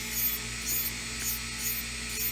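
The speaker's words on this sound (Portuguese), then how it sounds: "E aqui a gente vai apenas alisando, tirando aquele excesso de gel que possa ter escorrido na cutícula. Então, vamos apenas lixando, nivelando com cuidado." Nail file smoothing and levelling a stiletto-shaped gel nail: close, soft rasping strokes in a steady back-and-forth rhythm, about five passes.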